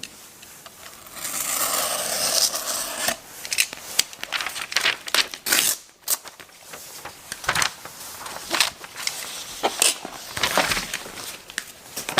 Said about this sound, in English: separate the paper from the magazine.